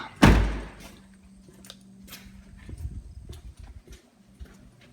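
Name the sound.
door opening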